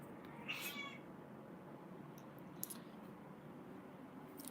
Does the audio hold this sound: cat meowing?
yes